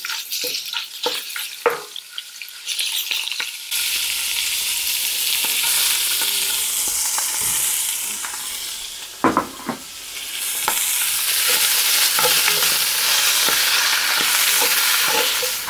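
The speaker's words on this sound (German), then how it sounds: "Und dann nehmen wir uns portionsweise das Gehackte und braten das an." Minced meat frying in olive oil inside a cast-iron Dutch oven: a few clinks and scrapes at first, then a loud, continuous hiss of searing that swells and stays dense, broken briefly by a utensil knock.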